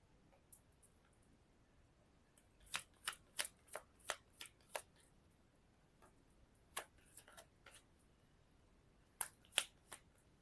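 Tarot cards shuffled in quiet bursts of crisp riffling clicks, a quick run of taps followed by scattered shorter flicks, close and fairly soft with no talking.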